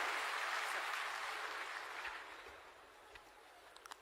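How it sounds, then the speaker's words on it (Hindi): An audience at a formal government ceremony claps to welcome a senior official, a broad wash of applause that starts full and fades out, leaving a few scattered claps at the end. "जोरदार तालियों से सर का स्वागत करें।"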